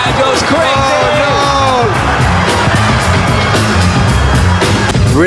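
A packed crowd at the Red Bull BC One 2022 World Finals breakdance battle in New York City roars, whoops and yells wildly. The cheering is loud and continuous, with an excited commentator speaking over it.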